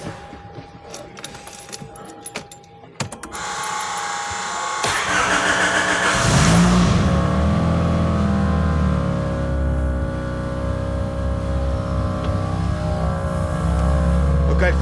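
An old car engine from the 1940s cranks and catches, then settles into a loud, close, rough idle with an odd uneven note from the idle actuator, after some clicks and rattling at the start.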